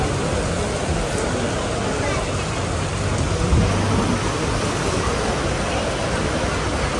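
Steady, loud rain falling outdoors during a Ganpati festival, with a low rumble of thunder rolling underneath the constant hiss for several seconds.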